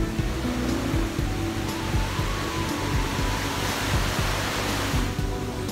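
Steady, loud rushing roar of a waterfall at a Norwegian fjord, a continuous broadband wash of falling water with no voices over it.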